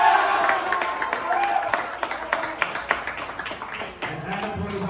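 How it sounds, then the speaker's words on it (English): A high school graduation crowd claps and cheers for a graduate, a moderate patter of applause with scattered shouts from a cheering section, under a speaker's voice. "Adam put his own cheering squad in the back"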